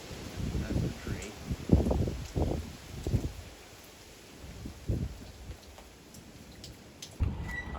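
Heavy rain in a March storm with strong winds hisses steadily, broken by rougher gusty bursts. Faint, indistinct voices sit underneath at times.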